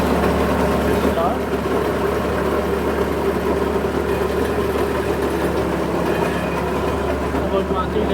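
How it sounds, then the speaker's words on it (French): A New Holland T1030 tractor fitted with a snow blower runs its engine in a steady, continuous drone across the whole stretch, with people talking over it. "On va commencer à faire marcher le moteur."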